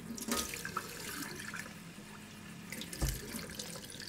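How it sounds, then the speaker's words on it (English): Methylated spirits being poured, a liquid stream splashing and trickling steadily for a few seconds, close and moderately loud, with a brief heavier splash near the end and no talking. "Next, pour in a tiny bit of methylated spirits."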